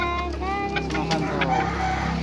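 Filipino chickens feeding on processed banana stem mash cluck and chatter steadily close by, with occasional brief higher calls and people talking over the flock.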